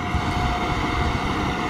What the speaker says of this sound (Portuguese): Mas não anda não que ele é velho não, mas tem força esse trator